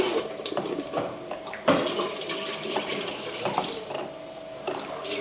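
Water drains out of a washing machine still running at a franchise shop, a steady rushing and splashing flow with a brief louder gush, close by and continuous.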